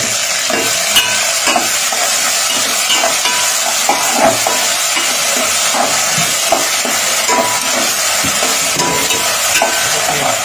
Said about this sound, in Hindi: एक चम्मच जिंजर गार्लिक पेस्ट डाल देंगे